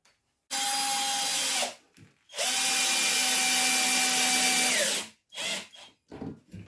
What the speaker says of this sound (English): drive a screw through here